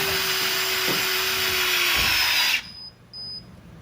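A loud pneumatic banding tool tensioning a steel band whirs and whines steadily for a few seconds, then cuts off sharply, leaving two brief high squeaks in the quiet.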